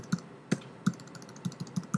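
Light taps on a computer keyboard as text is typed, a few quiet, irregular keystrokes spaced a fraction of a second apart, close and alone.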